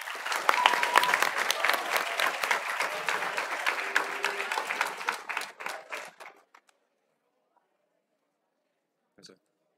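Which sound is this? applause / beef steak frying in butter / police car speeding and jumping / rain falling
applause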